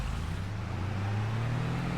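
A loaded pickup truck driving in Farming Simulator 22, a steady low engine drone with a slowly rising pitch, continuous and close.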